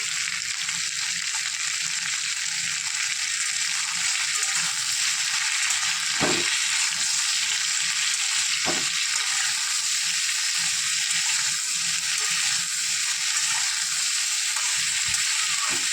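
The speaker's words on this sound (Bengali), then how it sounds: "হালকা করে একটু ভেজে নেব।" Spiny gourd pieces fry in oil with salt and turmeric, giving a continuous close sizzle with occasional spatula scrapes and knocks against the pan, no voices.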